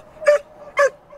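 A young female Malinois training as a police evidence dog gives two sharp, high barks about half a second apart, close by, with a softer yip trailing after them.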